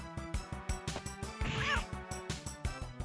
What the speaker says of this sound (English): Oh, they're making cat noises too.